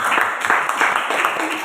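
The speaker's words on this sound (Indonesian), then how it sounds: "Tepuk tangan untuk kelompok paus." A short burst of audience clapping for a group in a classroom-style session, brisk overlapping claps lasting under two seconds.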